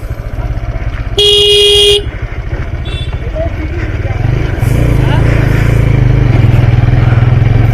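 Motorcycle riding through narrow, crowded lanes, its engine droning steadily with other traffic nearby, while a loud car horn blares once for under a second partway through.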